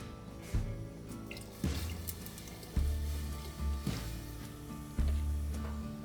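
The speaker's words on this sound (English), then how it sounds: "I'm going to put some hot water in here, get the rest of this chicken broth" Hot water going into a pot of chicken and vegetable soup with potatoes, carrots and Hatch green chile: quiet sloshing and dripping, broken by soft dull knocks roughly every second, with no voices.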